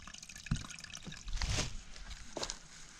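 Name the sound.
water dripping and flowing into pipe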